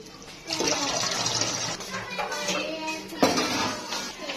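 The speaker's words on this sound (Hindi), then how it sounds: "ये जेली के लिए मैं पानी रख" Water, about two cups, is poured from a tap into a kitchen pot to make jelly: a steady rushing, splashing stream that runs for several seconds, with light clinks of the metal pot.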